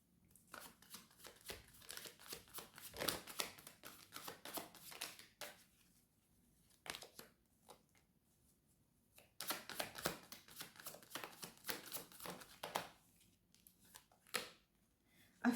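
Tarot cards being shuffled by hand, a run of rapid crisp riffling and flicking bursts, pausing briefly midway, then a second busy stretch of card shuffling, close and fairly quiet with no talking.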